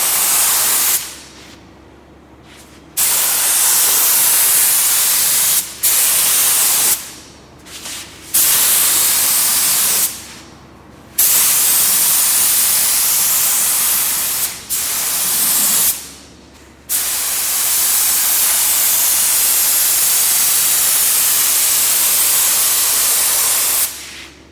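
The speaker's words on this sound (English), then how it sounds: "the way I apply clear coat is basically I start up top and then I go across" A spray gun lays clear coat onto a plastic bumper cover in repeated loud hissing bursts, each several seconds long, separated by short pauses as the passes start and stop.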